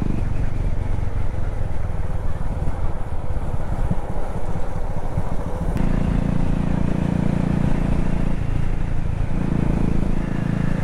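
A motorcycle ridden with a flat front tyre on the way up Kootagal Thimappana Betta near Ramanagara, heard as a loud, close, continuous engine drone with wind rush that shifts in pitch partway through.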